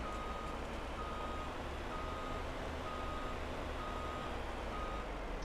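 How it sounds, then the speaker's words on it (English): In Farming Simulator 22, a truck sounds steady electronic reversing beeps in an even, repeating rhythm over a constant low engine drone, with no talk. "I think I'll just back this truck up on here."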